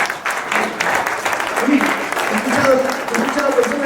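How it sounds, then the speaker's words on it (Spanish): Applause rises from a congregation at a missions congress in Cusco, many hands clapping near and loud while voices call out and talk across it. "¿Cuánto le damos un aplauso al Señor?"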